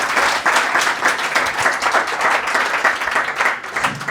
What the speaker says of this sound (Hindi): एक बार मेरे परमेश्वर यहोवा के लिए ताली बजा दो जोर से